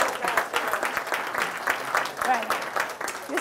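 Audience applause of steady, continuous clapping from a group of people, fairly close, with a voice talking over it throughout.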